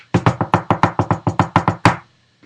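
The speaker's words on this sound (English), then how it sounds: "she pounded on the door again" Someone pounding on a door: a quick run of about twelve heavy, evenly spaced knocks, loud and close, ending with one harder blow, then silence.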